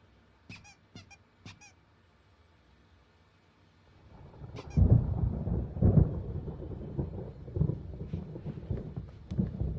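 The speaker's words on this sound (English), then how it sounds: "There's a storm coming. Oh, what a storm." Thunder from an approaching storm in the Alan Wake video game: a few faint squeaks first, then a low, heavy rumble rolls in and keeps swelling and cracking with rain-like texture for several seconds, no voices.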